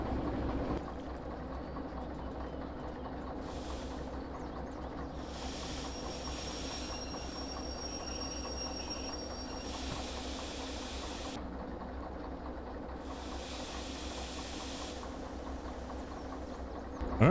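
Locomotive in the train simulator game Derail Valley rolling under light throttle, a steady low rumble with rail clatter and intermittent high wheel squeal, continuous and close, with no talking.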